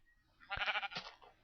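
A sheep in Minecraft gives one short, wavering bleat, fairly close and clear over near silence.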